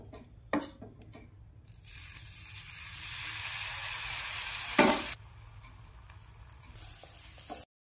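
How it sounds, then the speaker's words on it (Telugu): Dosa batter spread on a hot pan sizzles in a steady, close hiss that swells midway with a brief louder burst, amid light scraping and tapping of a spatula or ladle; no talking. "దోశ పిండి అయితే రెడీగా ఉంది ఇప్పుడు పోసుకుందాం దోశ"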